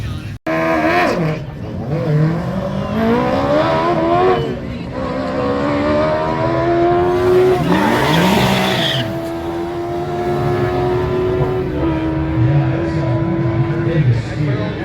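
Race cars launching off the line at an amateur track night at Lancaster Speedway, their engines loud and close, climbing in pitch through the gears over a steady background roar, with voices talking over it.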